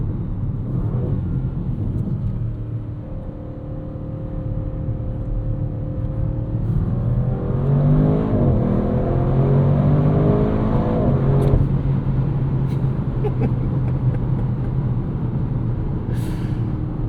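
A 2025 Audi RS6 Avant wagon's twin-turbo V8 drives on wide 285 snow tires, a steady deep engine drone that rises in pitch as it accelerates midway, loud and close, with no talk over it.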